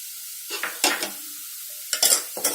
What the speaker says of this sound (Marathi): मिक्स करून घेऊया व्यवस्थित।